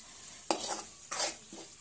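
Two quick, close scraping strokes of a spoon stirring potato curry in a pan, each a short wet swish with a faint sizzle, separated by brief quiet.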